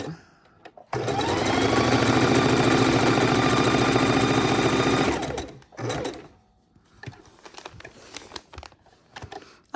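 A sewing machine stitches raw edge appliqué at close range, running in one long, fast, steady whir for about four seconds before stopping, followed by a few short clicks and handling noises.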